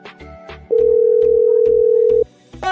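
A telephone's electronic tone sounds over a low repeating pulse, holding steady for about a second and a half between short bursts, close and fairly loud with no talking.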